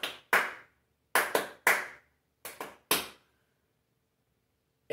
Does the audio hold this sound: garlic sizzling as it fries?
no